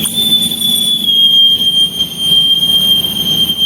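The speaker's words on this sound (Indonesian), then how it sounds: "Batavia berangkat ke Bumen pada pukul 12:31 atau 12:30 pagi." A Batavia stainless steel new generation passenger train built by PT Inka in 2024 stands at Bumen station, its loud steady rumble topped by a high sustained wheel squeal.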